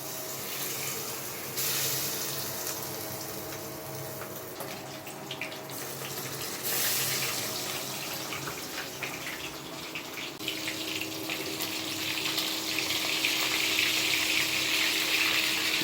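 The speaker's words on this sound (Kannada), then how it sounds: "ಮೀನ್ ಫ್ರೈ ರೆಡಿ ಆಗಿದೆ, ಈಗ ಬಿಡ್ತಾ ಇದ್ದೇವೆ ನಾವು ಎಣ್ಣೆಯಲ್ಲಿ" Fish pieces dropped into hot oil for a fish fry give a steady, close hissing sizzle that runs unbroken for about sixteen seconds and swells slightly louder toward the end, with no talking.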